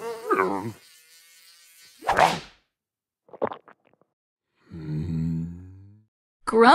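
A small insect buzzes in a steady, thin drone near the start, alternating with bursts of voices and other short sounds in a lively children's learning programme.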